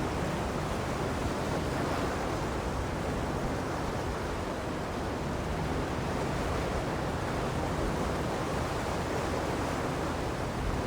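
A water train glides along in Genshin Impact's Court of Fontaine, giving a steady, even wash of rushing water and wind with no breaks, close and fairly loud throughout.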